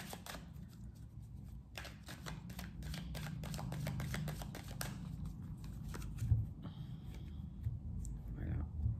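A deck of cards shuffled and cut by hand for a tarot-style reading, a run of quick crisp riffling clicks close by, followed by softer handling and a card tap, with quiet talk in the background.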